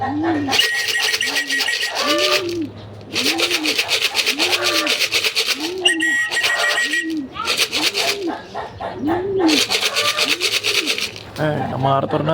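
Racing pigeons coo repeatedly and close by in rhythmic rising-falling calls while returning to the loft after truck training in Santo Tomas, Batangas, as someone talks over them.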